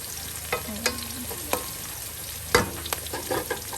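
Garlic and onion frying in a pan for Filipino chicken curry in coconut milk, a low steady sizzle broken by a few sharp clicks and scrapes of stirring, close up with no talk.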